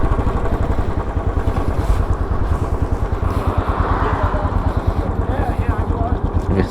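Royal Enfield Bullet 500 motorcycle engine idling nearby, a steady rapid thumping beat that continues throughout under a man's speech.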